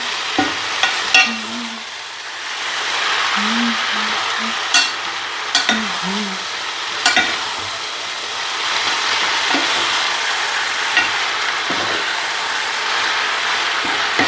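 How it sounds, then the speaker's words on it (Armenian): Sorrel (aveluk) being stirred in a frying pan gives a steady sizzle with scraping spoon strokes and a few sharp clinks against the pan, close and continuous. "Լավ, խառնում եմ"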